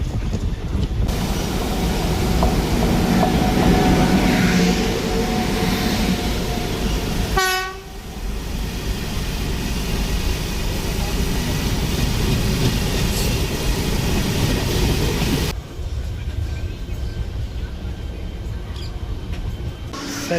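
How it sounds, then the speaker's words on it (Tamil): A suburban local train rumbles close by, arriving at Chennai Central's suburban station, with a loud horn blast partway through, its wheels and cars grinding and clattering steadily as it rolls in. "நம்ம ட்ரெயின் வந்து நின்றுச்சு சென்னை சென்ட்ரலோட சபர்பன் ஸ்டேஷனில்"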